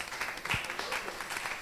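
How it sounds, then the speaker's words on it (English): An audience at a petroleum authority event in Uganda applauds, a brief burst of many hands clapping with a voice briefly audible over it. "Please give him a round of applause."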